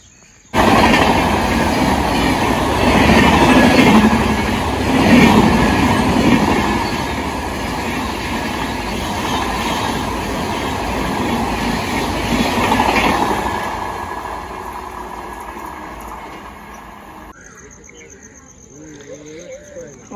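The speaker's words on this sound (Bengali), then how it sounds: "অনেক প্রতীক্ষার অবসান, ট্রেন আসছে আমাদের।" A delayed early-morning train pulls into a station at dawn, its loud rumbling and clattering wheels building and then easing off as it slows, before quieter station noise remains.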